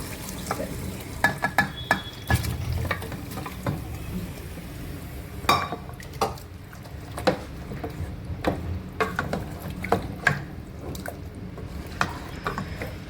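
Pressure-cooked mutton fries in masala with oil for a Kolhapuri tambda rassa, a steady sizzle broken by frequent clattering spoon strokes and scrapes against the pan.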